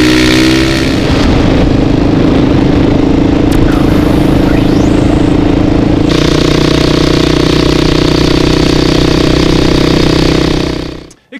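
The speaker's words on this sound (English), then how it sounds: "this Husky is what's called a thumper, a 4-stroke" A 2009 Husqvarna TE 450 four-stroke single-cylinder dual sport motorcycle idles with a steady, loud, close throb that holds for about ten seconds before cutting off at the end.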